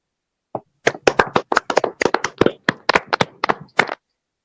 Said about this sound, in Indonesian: Tepuk tangannya mana untuk kita semua?